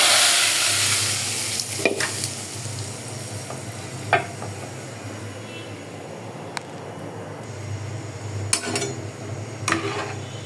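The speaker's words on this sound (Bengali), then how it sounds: "এটা হলো মাসকলাইয়ের ডাল। এটা আমি এখন তেলে দিচ্ছি।" Urad dal (maskalai) frying in hot oil, a low steady sizzle with occasional sharp clinks and scrapes of a spoon on the pot, close by and continuous across a long stretch.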